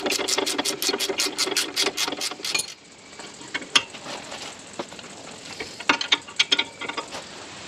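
Ratchet tightening brake caliper bracket bolts on a Holden Commodore, a quick run of close, even clicks followed by scattered irregular ratcheting and metallic handling.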